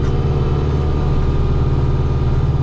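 A tractor with a broken exhaust pipe idles loudly and close, a steady rumbling low drone with an even throb that holds unchanged throughout the short stretch.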